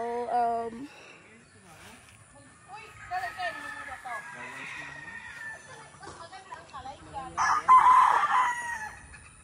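Chickens and roosters on a farm, clucking and crowing at close and middle distance, with a person talking over them.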